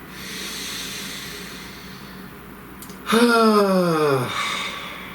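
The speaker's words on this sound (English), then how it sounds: "Please take a nice deep breath." One long, loud, deep breath drawn in close to the ear, a rasping hiss that swells suddenly after a quiet stretch, then fades away.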